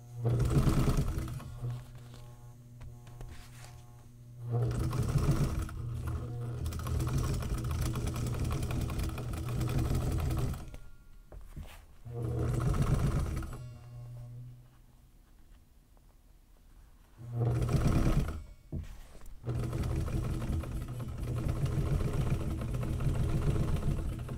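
An older sewing machine runs in several bursts of rapid, even stitching, each lasting a few seconds, separated by short pauses, close and moderately loud.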